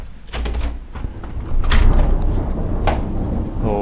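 A door opening indoors at a training camp, with a couple of short knocks and a scrape rising over a steady low background rumble, fairly close and without talk.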